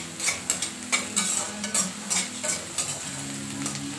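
Raw green peas tossed into a hot pan and stirred, with a close, steady sizzle and rhythmic scraping of a spoon against the pan every half second or so.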